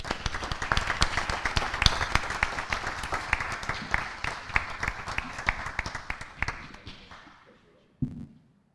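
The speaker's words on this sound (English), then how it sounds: "Please help me give him a big round of applause." A crowd at a board of education meeting applauds steadily with dense, overlapping claps for several seconds, then fades out, followed by a brief thump at the end.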